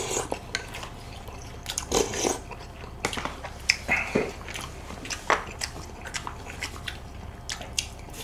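Close-up chewing of a raw cheongyang chili pepper at a Korean mukbang meal, with wet crunchy bites and squishy mastication in an irregular rhythm, moderately quiet and without talk.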